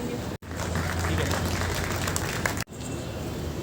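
Audience applause at a three-day Urdu cultural festival: a dense, steady burst of clapping from a crowd, loud and sustained, cut off abruptly at both ends.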